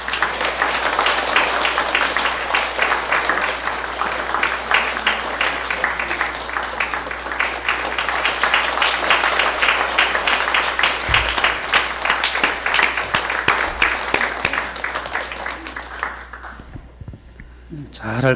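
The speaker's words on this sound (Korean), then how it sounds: "박수하겠습니다." A church congregation applauds steadily during a Sunday worship service, dense sustained clapping filling the room for most of the span before tapering off near the end.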